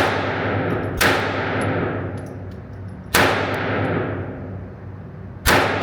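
Three sharp handgun shots fired one-handed at a target, each a loud, near crack with a long ringing decay, spaced about two seconds apart.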